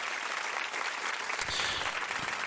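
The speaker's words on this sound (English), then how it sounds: "Everybody gets a round of applause." A room gives a round of applause at a one-year anniversary night for a promoter and DJ show: dense, steady clapping from a small crowd that carries on throughout.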